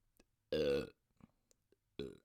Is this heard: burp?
yes